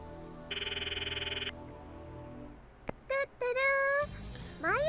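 A phone call's ringing tone repeats in a steady pulsing burst in the anime Steins;Gate, then animated voices speak over a quiet background.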